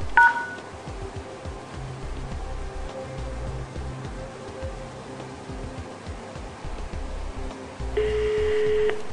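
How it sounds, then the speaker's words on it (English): Outbound call dialed through a Yeastar MyPBX IP PBX to a mobile phone, with a few short DTMF keypad tones at the start, then a steady steady line tone near the end over a constant background hum. "Now you can try to make an outbound call to a mobile phone via this new outbound route."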